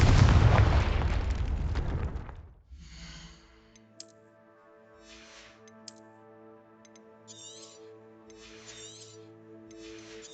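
A heavy Confringo spell explosion from Hogwarts Legacy erupts as a loud, dense roar that dies away after a couple of seconds, followed by softer magical chimes and a low sustained tonal hum.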